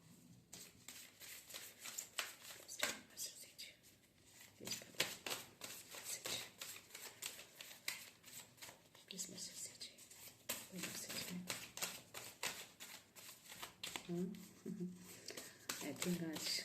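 Oracle cards shuffled by hand to draw one, a soft, quick run of papery flicks and riffles under someone talking quietly throughout.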